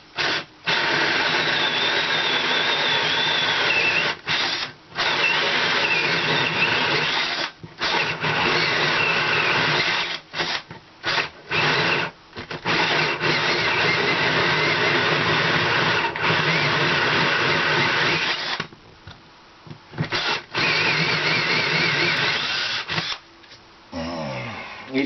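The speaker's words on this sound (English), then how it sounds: "This is my second charge on this drill, and I used up the last of the charge on the bigger drill." A cordless battery drill fitted with a hole saw bores through layered RV flooring, a loud continuous whine broken by brief pauses and restarts over about twenty-five seconds.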